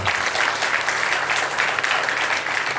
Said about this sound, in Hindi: इनके लिए भी जबरदस्त ताली हो जाए।